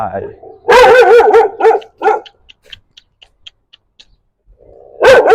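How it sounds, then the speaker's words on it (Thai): A dog in a Thai home setting barks several times in quick bursts, loud and close, followed by a few faint sounds and another bark at the end. "เห่าผมเฉยเลย"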